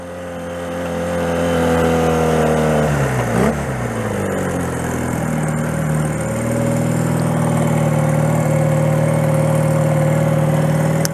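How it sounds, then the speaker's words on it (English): A 1979 Honda CM185 Twinstar bobber motorcycle engine runs close by, with a steady idle that briefly shifts pitch in a quick rev around the middle before settling back to an even hum. "To me, it idles quite nice and happily."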